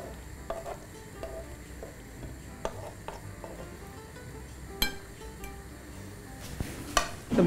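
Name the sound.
stirring gnocchi marinara with grated grana parmesan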